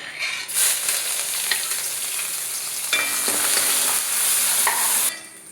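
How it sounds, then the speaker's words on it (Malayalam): Chopped ginger and garlic go into hot oil with already popped mustard seeds, a steady loud sizzle and crackle with faint stirring scrapes throughout, the frying sound easing off near the end. "കടുക് പൊട്ടി കഴിഞ്ഞപ്പോൾ ഇഞ്ചിയും വെളുത്തുള്ളിയും കൂടെ ചെറുതായിട്ട് അരിഞ്ഞെടുത്തത് അങ്ങോട്ട് ഇടും"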